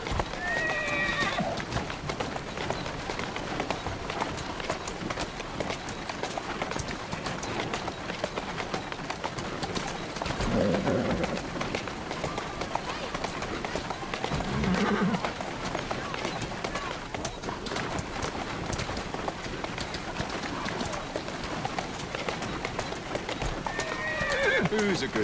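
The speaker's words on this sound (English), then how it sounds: "Who's a good horse? You are. Slow down!" Hooves pounding continuously as a horse is ridden at pace, with occasional neighs and snorts, birds in the background and a rider talking throughout.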